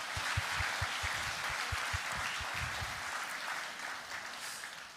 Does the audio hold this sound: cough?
no